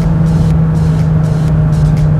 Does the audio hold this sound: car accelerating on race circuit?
yes